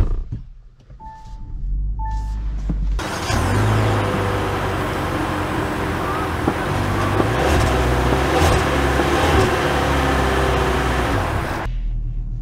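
A 2024 Kia Soul EX pulls away and drives with a steady, loud engine and road roar from inside the cabin. A few brief tones sound before it moves off, and the roar cuts off abruptly near the end.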